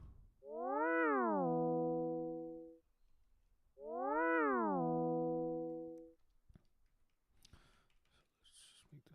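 Synthesized cat meow programmed in Sonic Pi: two drawn-out, rising-then-falling electronic meows with a pause between, followed by faint rustling.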